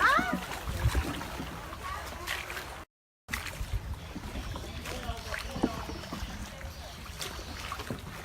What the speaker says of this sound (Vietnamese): Now we on a rowing boat right now.